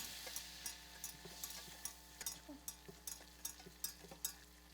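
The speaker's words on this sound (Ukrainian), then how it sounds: "розмішуємо тепер в маслі вінчиком і ніби заварюємо борошно" A whisk clicks rhythmically against a small pot as flour is stirred into melted butter, faint quick taps over a low soft sizzle, evenly repeated throughout.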